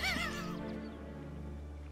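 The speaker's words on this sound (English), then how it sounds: "There's my horse." Roach, the horse in The Witcher 3, gives a loud whinny at the start that sinks into a lower, fading neigh over a steady game-music bed.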